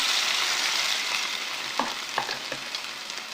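Stem amaranth greens sizzling in hot oil over a tempering of chana dal, urad dal and dried red chillies, a steady close frying hiss with a few soft stirring knocks and no talk.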